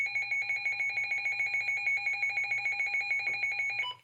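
Weather radio's siren test tone at low level: a steady, piercing electronic alarm pulsing rapidly and evenly for about four seconds before cutting off abruptly, close and clear with no talk.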